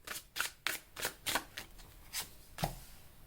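Tarot cards being shuffled and cut by hand: a run of about seven crisp, papery riffling snaps at uneven intervals, close by and fairly quiet, with no talking.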